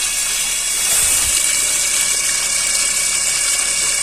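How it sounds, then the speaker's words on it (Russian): Water rushes steadily through a BMW engine pump being flushed during an engine restoration, a continuous close hiss and gush with a brief low thump near the middle. "Промиваємо насос."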